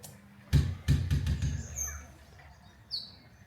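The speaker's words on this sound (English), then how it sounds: "we've got little birdies" Small birds in a zoo aviary at Werribee Open Range Zoo give a few brief, high chirps after some nearby thumps and rustling, moderately close and sparse.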